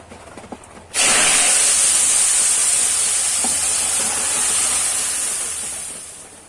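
Bay leaves drop into hot oil for tempering a soybean and potato curry, setting off a sudden loud, steady sizzle and hiss that holds strong for several seconds before easing slightly.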